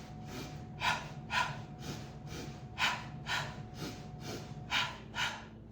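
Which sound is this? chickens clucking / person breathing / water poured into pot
person breathing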